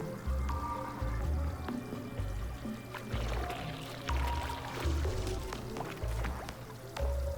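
Water gushing from a geyser in the Oxygen Not Included game, a steady flowing pour with trickling and dripping layered over a looping low game-music bass line.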